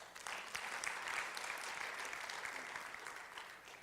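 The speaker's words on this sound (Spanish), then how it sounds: "Dele un aplauso al Señor" A church congregation claps together during a sermon, a steady wash of applause that sounds distant and faint and holds evenly for a few seconds.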